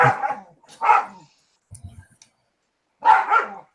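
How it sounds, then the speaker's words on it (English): A few sharp dog barks ring out in separate bursts, a pair at first and another pair after a short pause, fairly close. "now the dogs are barking"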